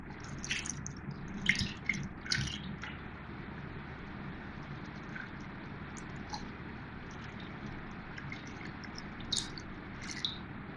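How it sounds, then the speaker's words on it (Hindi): Homemade paneer is rinsed under water in a kitchen, soft wet squelches and drips coming in irregular bursts over a low steady hiss of running water, fairly quiet throughout. "एक दफ़ा मैं इसको और धोऊंगी इस तरह से ताकि इसकी खटास अच्छी तरह निकल जाए।"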